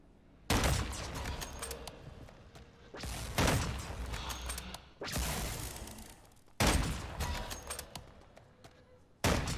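Gunfire in the shooter game Call of Duty Modern Warfare 3 Zombies, played solo: five loud bursts of rapid shots separated by brief pauses, with no talking.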